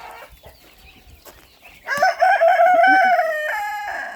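A rooster crows loudly and close, a long strained call, after some quieter clucking and poultry chatter in a yard with chickens and ducks.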